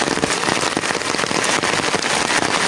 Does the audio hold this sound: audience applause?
no